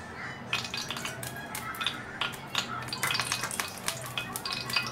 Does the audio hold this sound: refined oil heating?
yes